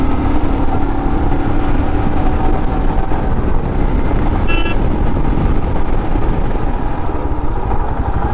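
A vehicle is driven faster along a road: loud, steady engine and road roar throughout, with one brief horn toot partway through and no talking.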